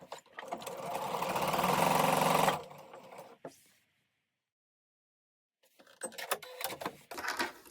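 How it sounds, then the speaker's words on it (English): A sewing machine runs in one sustained burst as quilt block pieces are stitched, followed by handling clicks, a stretch of silence and then rustling of fabric. "we'll just take these to the sewing machine and sew them down"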